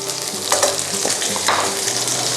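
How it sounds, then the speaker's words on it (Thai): A quick stir-fry over high heat, with loud steady sizzling and a couple of brisk scraping strokes of the utensil in the pan, heard up close with no talk. "โอเคใช้ไฟแรง เราก็ผัดอย่างเร็ว คล้ายๆคั่วมันนะ"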